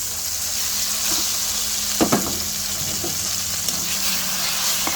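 Ground pork sautéing with tomatoes in a pan, giving a steady close sizzle with a few louder clacks of stirring around the middle and no talking.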